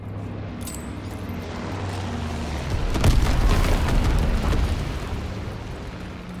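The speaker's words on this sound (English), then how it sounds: "Incendiary bombs incoming." Incendiary bomb blasts in the Call of Duty: WWII game, a loud rumbling boom swelling in the middle and rolling on over steady low battlefield noise, with no voices.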